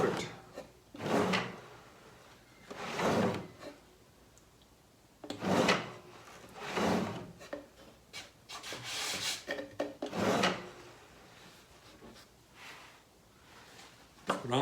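Wooden drawers slide in and out of a handmade console table under construction, giving repeated rubbing, scraping strokes at a steady rhythm, close and fairly quiet, with brief pauses between passes.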